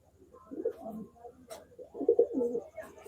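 A pigeon kept by a fancier coos in low, soft throaty bursts, two rounded phrases separated by a brief pause, close by and quiet.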